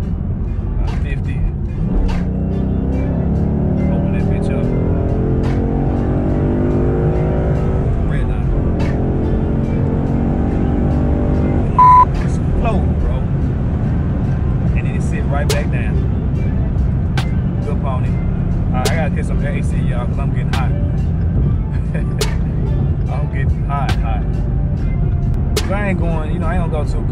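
A 2015 Ford Mustang GT Premium engine drones steadily inside the cabin and slowly rises in pitch as the car speeds up, heard throughout under someone talking.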